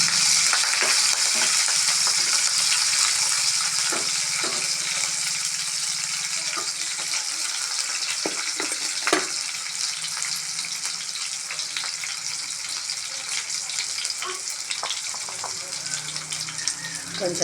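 Curry leaves crackling and sizzling in hot oil, a loud, steady frying hiss with scattered pops and occasional stirring knocks over most of the stretch, with no talking.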